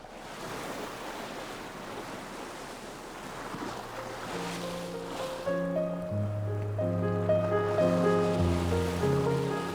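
Sea waves wash in a soft, hissing swell at first, then music rises and drowns them out.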